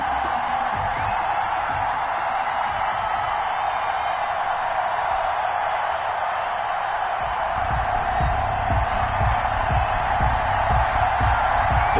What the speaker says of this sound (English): this crowd is ready to go